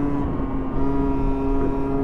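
A motorcycle engine runs steadily on a winter road, a constant droning hum with a strong tonal whine at moderate level and no speech over it.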